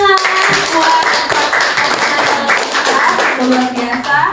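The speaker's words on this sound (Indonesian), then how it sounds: "Mari tepuk tangan buat" A school student council debate audience claps together, a dense steady burst of hand claps that fills the room and stays loud for several seconds.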